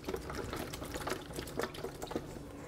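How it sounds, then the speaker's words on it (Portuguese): A whisk or spoon stirs and breaks up raw eggs in a bowl for Christmas biscuit dough, giving a steady wet clicking and sloshing that is close and continuous with no talking. "Agora eu vou mexer, desmanchar um pouco os ovos."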